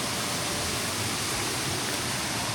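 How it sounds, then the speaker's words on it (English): Waitonga Falls, a 39-meter waterfall in Tongariro National Park, heard from its base as a loud, continuous broadband roar of falling water with no pauses. "Here we are, guys, Waitonga Falls, the tallest waterfall in Tongariro National Park, standing tall at 39 meters."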